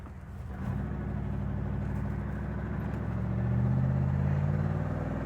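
A 1973 Buick Centurion driving and shifting through its gears, a steady low engine drone heard from inside that rises in pitch and loudness toward the end.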